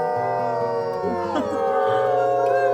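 Several wolves in the video game WolfQuest howl together in long, overlapping, wavering tones over a steady low background hum, rising and bending near the middle.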